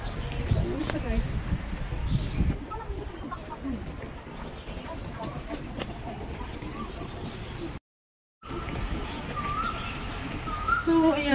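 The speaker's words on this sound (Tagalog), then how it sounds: "Ayan, daming tunog ng ibon, guys." Many birds call and chatter together outdoors in Tamar Park, Hong Kong, some cooing, over a busy background with a voice talking now and then and a brief dropout.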